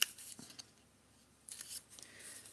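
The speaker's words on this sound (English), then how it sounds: "Let's cut that into a ticket as well" Scissors snip paper for a journal envelope ticket, a few quiet crisp cuts, one brief at the start and a cluster of snips later, with faint rustling between.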